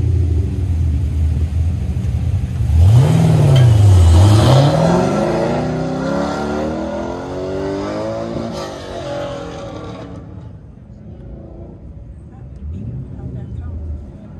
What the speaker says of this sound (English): 65 Corvette versus a 68 Corvette